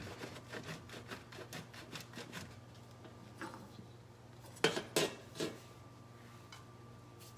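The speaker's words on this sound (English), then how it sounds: "Let's get our cheese grated." Cheese rubs against a grater in a home kitchen in a rhythmic series of quick, faint scraping strokes, with a pause and then a few louder knocks and scrapes near the end.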